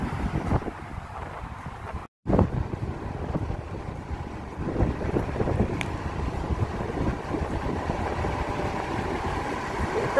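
Wind blows outdoors on a walk toward downtown, a loud, continuous low buffeting rumble with an engine-like hum beneath it and a brief dropout near the start.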